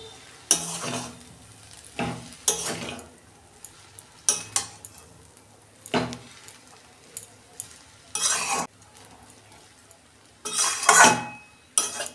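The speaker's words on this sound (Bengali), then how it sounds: "এবার ভালো করে আমি মেশাবো।" Egg chowmein is mixed with soy and tomato sauce in a pan, giving repeated bursts of utensil scraping and clinking against the metal over a low sizzle, with quiet pauses between strokes.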